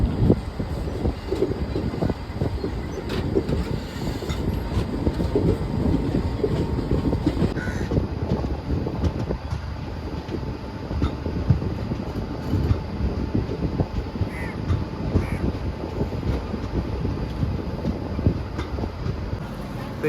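The Tista Torsa Express rolls into Aluabari Road Junction, a steady rumble and rattle of railcars running throughout, with crows cawing now and then over the train noise.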